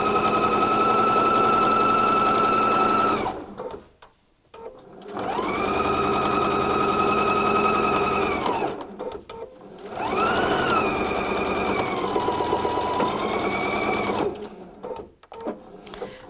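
A sewing machine runs the side seams of a tote bag in three loud, steady bursts of rapid stitching, each separated by a brief pause, with the motor pitch dipping and shifting during the last run.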